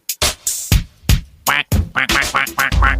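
A series of loud, nasal quacks in quick succession, close and clear, with brief gaps between calls and no talking.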